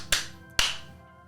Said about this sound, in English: we have to do the clap